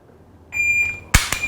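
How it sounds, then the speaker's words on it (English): A dry fire training timer gives a sharp sustained electronic beep during home defense practice, followed by two sharp clicks, all loud and close with no talking. "I gotta wait till the beep happens."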